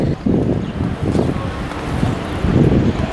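Steady wind buffeting outdoors in a small California town, a broad low rumble that surges and eases in gusts, loud and close against the microphone.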